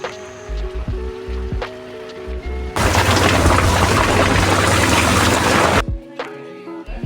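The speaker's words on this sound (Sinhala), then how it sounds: "පේනවනේ මාරම වැස්සක් තමයි තියෙන්නේ." Heavy rain pours down in a sudden dense burst that lasts about three seconds, loud and close, set between quieter stretches of other background sounds.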